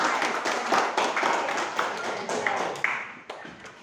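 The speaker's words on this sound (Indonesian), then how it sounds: "Bagus sekali. Tepuk tangan." A classroom group claps for a presenting team during a religious education lesson on prayer and remembrance, a fairly close burst of uneven hand claps that thins out and fades toward the end.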